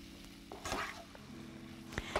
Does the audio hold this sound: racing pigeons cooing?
no